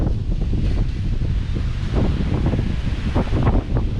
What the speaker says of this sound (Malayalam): ഒടുക്കത്തെ കാറ്റ്.